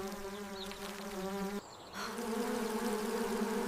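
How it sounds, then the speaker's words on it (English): Insects buzz steadily near a garden shed, a close, droning hum with a short dip in the middle before the buzzing resumes, with no talking. "The buzzing is coming from the shed."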